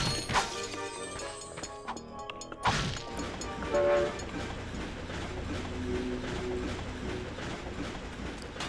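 A cartoonish train in the Ratchet and Clank game clanks and rumbles along, with heavy metallic whacks early on and a sustained rolling din with faint tones after.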